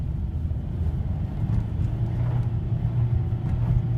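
A 2009 Nissan Rogue spins its tires with traction control on, giving a steady low engine rumble and drone that builds slightly partway through, close and fairly loud.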